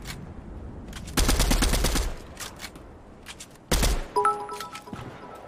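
Two short bursts of distant automatic gunfire in Fortnite, each lasting about a second, with quieter game ambience and a few electronic tones between them.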